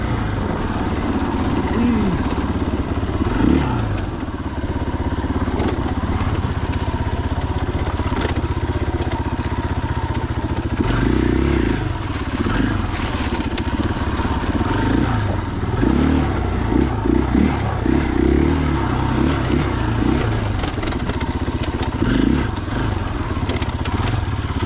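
A 2021 KTM 500EXCF dirt bike ridden on fresh singletrack trail at Johns Peak OHV, its engine droning loudly and continuously with throttle surges, rattles and clatter throughout.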